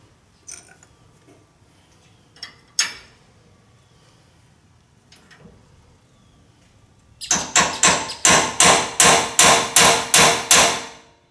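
A hammer strikes a steel punch to mark a hole in a trailer frame for a swing bolt-on hinge kit, with a few scattered taps first, then a steady run of about ten loud, evenly spaced metallic blows up close.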